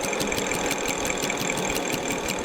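John Deere 8RX tractor machinery free spinning with the PTO off, giving a steady, loud mechanical hum with a rapid regular pulsing beat and a high whine, continuous throughout with no talk.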